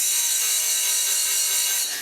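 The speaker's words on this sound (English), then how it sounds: "So I use this a lot when I'm deburring inside of stainless steel tubing." A 1/3 hp Baldor bench buffer deburring the inside of stainless steel tubing makes a steady, bright high-pitched hiss and whir. It runs close and loud for about two seconds with no talking.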